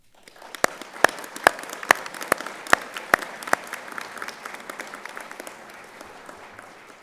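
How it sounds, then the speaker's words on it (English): A commencement crowd applauds graduates, a dense wash of clapping with a few sharp, close individual claps standing out early, steady throughout and gradually thinning toward the end. "Please join me in recognizing their accomplishments with a round of applause."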